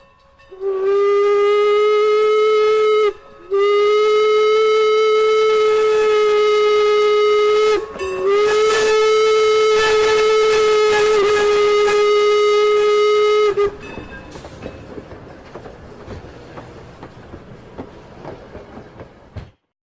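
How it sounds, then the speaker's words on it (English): A steam train passes close by, sounding long loud whistle blasts in three bursts, then fading into rumbling, clanking wheels on the track. "record sound live from a passing steam train."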